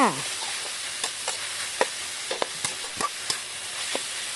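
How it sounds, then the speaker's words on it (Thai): Mushrooms, baby corn and chili stir-fry in a wok for drunken noodles, with a constant hiss of frying and sharp scraping clinks of a spatula against the metal at irregular intervals. "จากนั้นก็ผัดไปเรื่อยๆ ค่ะ ผัดจนทั้งหมดสุกค่ะ"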